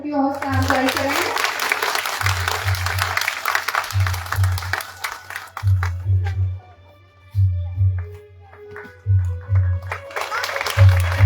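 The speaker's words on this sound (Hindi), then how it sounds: "भरपूर तालियों में बच्चों की हौसला अफजाई करें।" An audience at a school results ceremony claps for the students, with rapid scattered clapping loudest at first and then thinning. A voice talks over it, and a pulsing low hum runs underneath.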